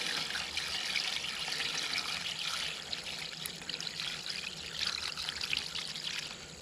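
Sugar water pours in a steady stream into a bee feeder, a continuous close splashing trickle that briefly eases midway before running strong again.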